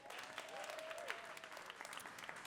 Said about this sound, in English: I also want to give a round of applause for our wonderful GBH crew.